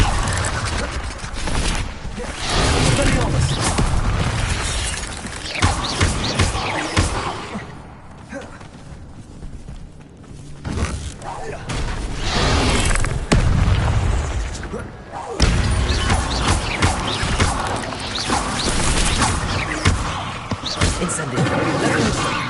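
A Hogwarts Legacy Incendio fire spell erupts in repeated loud whooshing bursts and booms amid combat clatter, with a player speaking over the noise.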